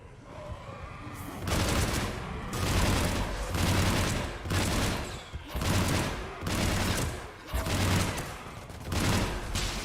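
Heavy automatic gunfire in the Mass Effect 3 video game, loud sustained bursts of shooting in repeated waves with booming low impacts, no voices.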